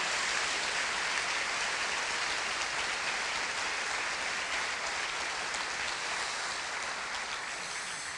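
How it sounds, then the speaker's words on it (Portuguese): A church congregation claps at a pastor's urging, a soft, continuous wash of many hands at a moderate distance, steady throughout with no voices over it. "Aplauda mais forte"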